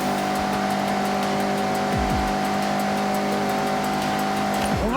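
A Mazda MX-5 races hard through corners in Forza Horizon 6, its engine droning steadily throughout with a rising rev and short tire squeals near the end.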